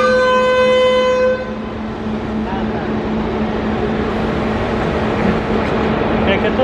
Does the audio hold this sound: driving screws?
no